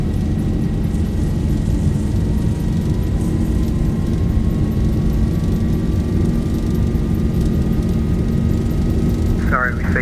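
Boeing 737 jet engines spooled up to takeoff thrust in the X-Plane 11 flight simulator, a loud, steady roar with a slowly rising whine that holds for the full stretch, a few sharp clicks breaking in near the end.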